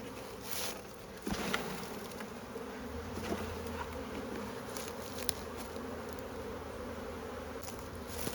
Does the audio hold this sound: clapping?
no